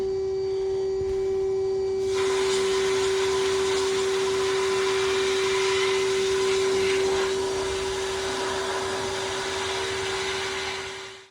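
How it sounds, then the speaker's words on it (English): Sandblasting a radiator: a steady, loud hiss of blasting air over a constant machine hum, starting after a quieter opening and running continuously until it cuts off at the end, no talk. "I'm gonna check for holes and then go right into sandblasting"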